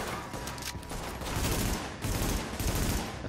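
Gunfire in Tom Clancy's The Division, a dense, loud stretch of rapid overlapping shots in sustained bursts, with a brief dip in the middle.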